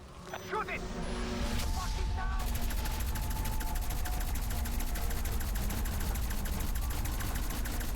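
Rapid automatic gunfire in Call of Duty zombies mode on Firebase Z, a fast steady rattle of shots that starts after a brief moment and runs on, loud and close, with a voice speaking near the start.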